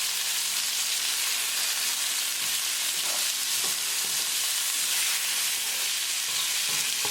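Black tiger shrimp fry in a pan with a steady, loud sizzle and crackle as they are turned, with soft scraping and stirring knocks breaking through the hiss and no talking.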